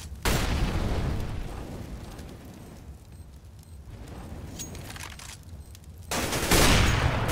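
Loud bursts of gunfire in the video game Counter-Strike: Global Offensive come as a rapid volley at the start, then quieter scattered shots, then another heavy close-range barrage near the end.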